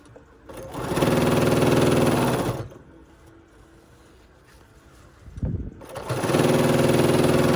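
A sewing machine runs in two sustained bursts, stitching binding around a crazy quilt block, with a quieter pause and a soft mechanical whir between them. The sound is close and fairly loud.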